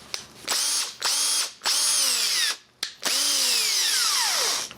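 A cordless Würth or Milwaukee drill, about ten years old, whirs in four bursts, spinning up to a high whine and winding down between each trigger pull, with a long final run.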